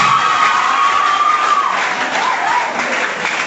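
An audience at a secondary school debate on lawyers versus robots breaks into loud, sustained applause. The clapping is dense and close, with some cheering mixed in, and fills the whole short stretch.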